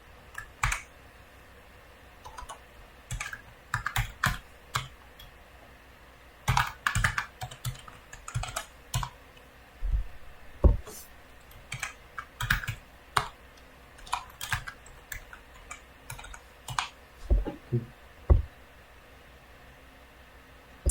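Keys on a computer keyboard are typed in irregular bursts while an old admin password is entered during home network router setup. The clicks are close and crisp, with short pauses between runs and no talking.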